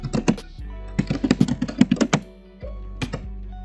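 Quick bursts of typing on a computer keyboard, close and crisp, with rapid clusters of keystrokes broken by short pauses. No voices.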